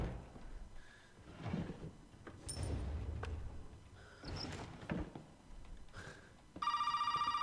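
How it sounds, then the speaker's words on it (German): A telephone in the video game Resident Evil 7 starts ringing near the end, with a bright, steady electronic ring that follows quieter rustling and thumping game sounds. "Telefon."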